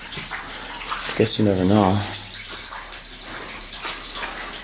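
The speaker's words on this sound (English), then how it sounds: "Almost seems like there's running water in there." Water runs steadily somewhere inside an abandoned building in one of Stalin's old cities, a soft continuous rush beneath a man's brief speech.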